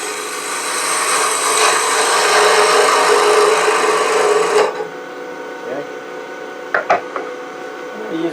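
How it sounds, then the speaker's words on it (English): Wood lathe recess tool cutting a ring bowl from flawed wood: a steady, loud scraping hiss for several seconds that stops abruptly, followed by quieter lathe hum and a few light knocks. "Use my recess tool this time"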